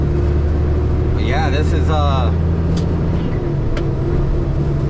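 A truck driving on the road near Phoenix, steady loud engine and road rumble throughout with someone talking over it.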